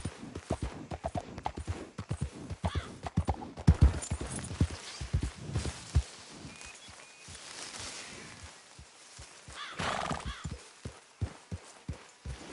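A ridden horse's hooves clip-clop on hard ground in a walking rhythm, close and distinct at first, then thinning out into scattered steps and quieter stretches.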